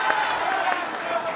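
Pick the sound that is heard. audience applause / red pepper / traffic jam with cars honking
audience applause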